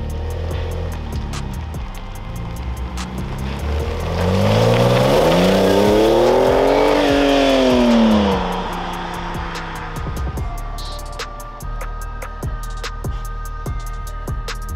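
A RUF-upgraded Porsche 996 Turbo on the road, its engine revving loudly as the pitch climbs and falls in a sweeping run, then settling back to a steady drone with ticking and clicking noises over it.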